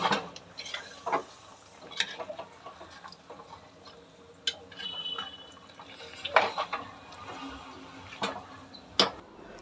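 Curry is stirred in a cooking pot after coming to a boil, with scattered clinks and scrapes of a spoon against the pot at a moderate level. The sounds come in irregular bursts with quiet kitchen background between them, and no one speaks.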